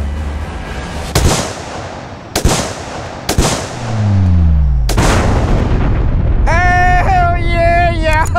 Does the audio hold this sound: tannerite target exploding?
yes